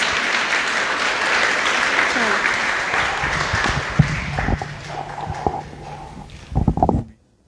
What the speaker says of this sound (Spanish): Demos un aplauso para el maestro Abraham Torres